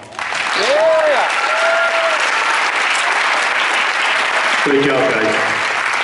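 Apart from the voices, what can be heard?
audience applause at senior awards ceremony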